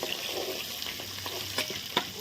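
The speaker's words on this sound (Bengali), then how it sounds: "মাছের মাথাগুলো ভাজা হয়ে গেছে আমি এখন তুলে নিলাম" Fish heads frying in oil in a pan, a close, continuous sizzle with a few brief stirring scrapes and pops over a couple of seconds.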